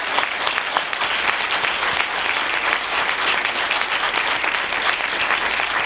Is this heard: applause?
yes